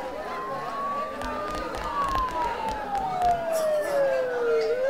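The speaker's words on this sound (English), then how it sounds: "Don't those sirens sound really close?" A siren in the video game Persona 4 wails up and down, close by, over a murmuring crowd and a busy background din.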